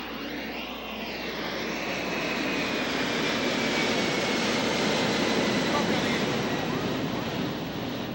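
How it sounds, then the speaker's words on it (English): A jet airplane taking off near a beach party roars loudly and steadily for several seconds with a broad rushing whine, mixed with wind and surf noise. "Excuse the airplane taking off,"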